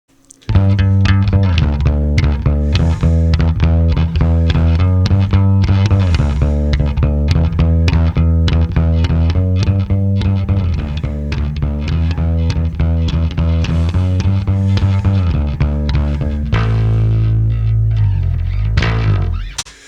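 A gritty, slightly distorted bass guitar DI signal being played back for reamping, with steady repeated notes carrying a strong low end. It plays loud and continuous for about sixteen seconds before a brief lower phrase.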